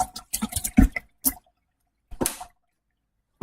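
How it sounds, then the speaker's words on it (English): Water splashes and drips as cans are rinsed out, in a few short bursts of running and spattering separated by silent gaps, close by. "Rinse out some cans."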